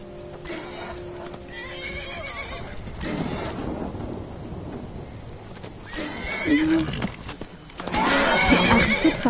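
A horse whinnies loudly in a video game amid game clatter and rumbling, with hoof clip-clops and a storm-like rumble in the background.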